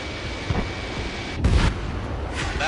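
A missile explosion destroys a radar vehicle in Ace Combat 7, a deep booming blast about midway through steady rumbling aircraft noise, with no talk.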